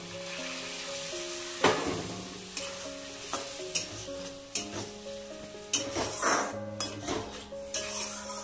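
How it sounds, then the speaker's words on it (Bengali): Bori lentil dumplings frying in poppy seed paste, with a low sizzle and a string of clear spoon-on-pan knocks and scrapes at irregular intervals, while a steady background tone hums underneath. "চলো এবার আমি বড়িটাকে এর সঙ্গে ঢেলে দেবো।"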